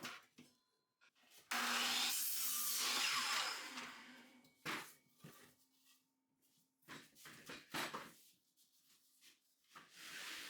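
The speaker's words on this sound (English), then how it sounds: "I measured my posts at 30 inches, then I cut them on the miter saw" A miter saw cuts through a wooden 3-by-3 post for a raised garden bed, giving a loud, close, sustained whine of about two and a half seconds, followed by quieter clatter and a few sharp knocks.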